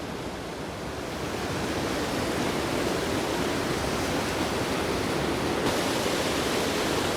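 Hull Creek Falls in Pennsylvania, a waterfall pouring into rocky pools, giving a loud, steady roar of rushing water that fills the whole clip without pause.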